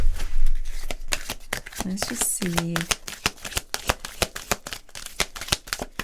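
A deck of slippery oracle cards is shuffled up close in a steady run of crisp riffling flicks, with a person speaking briefly over the cards.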